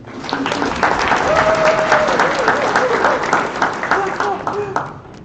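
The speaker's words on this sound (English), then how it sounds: "Give a round of applause to Brent real quick." A crowd applauds with dense, sustained clapping that fades slightly at the end, with a voice faintly audible underneath.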